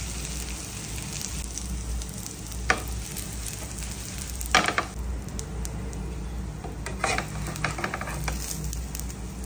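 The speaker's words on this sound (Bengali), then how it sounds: "আজকে বানিয়ে নিলাম এই সেই ভাইরাল ডিম ভাজি।" An egg omelette fries in hot oil with a steady, continuous sizzle, and a few soft scrapes and stirring clicks come through close by.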